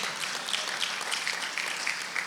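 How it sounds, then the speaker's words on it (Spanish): A church congregation claps and applauds together in a steady, dense wash of hand claps, moderately loud and continuous, with no voices standing out. "Dele palmas al Señor"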